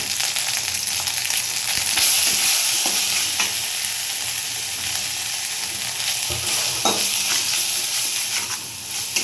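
Fish curry masala with turmeric, salt and slit green chilies frying in a pan for rui macher jhol, a steady loud sizzle broken by occasional scraping strokes of a stirring spoon, with no talking.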